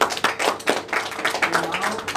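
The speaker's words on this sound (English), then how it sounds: "Round of applause." Audience applause at a workshop, dense overlapping hand claps filling the room for a couple of seconds, fairly loud and close with no talking over it.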